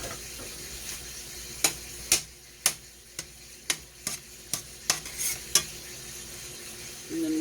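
Butter melting in a pan for sirloin steak with garlic butter gives a faint, steady sizzle, broken by a run of sharp, close clicks and taps.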